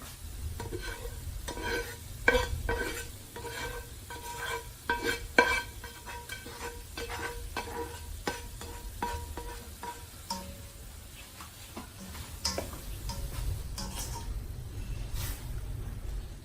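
Chicken and vegetables stir-frying in a pan, with a continuous sizzle broken by a rapid run of clattering utensil strikes and scrapes that later thin out to occasional knocks.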